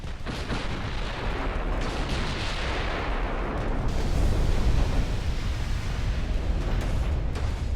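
Continuous rumbling barrage of 8-inch and 6-inch naval guns firing in the warship game Ultimate Admiral: Dreadnoughts, dense overlapping booms swelling louder midway, with no voices.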